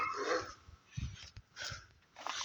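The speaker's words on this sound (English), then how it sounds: "That's my forest dog over here." A forest dog nearby whimpers and yips in short bursts, a few brief barks mixed with whining, moderately loud with no voices.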